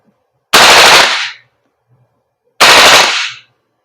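An Umarex HK416D full-metal airsoft gas blowback rifle firing two loud close bursts, each a rapid rattling string of shots lasting about a second, separated by a quiet gap.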